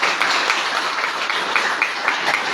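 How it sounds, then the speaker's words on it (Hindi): Applause from a gathering welcoming new members into a political party at a press conference in Panchkula, a steady dense wash of clapping that runs through the whole short stretch without pause. "उनके लिए जोरदार तालियों से स्वागत"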